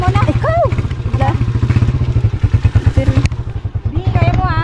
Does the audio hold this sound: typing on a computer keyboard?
no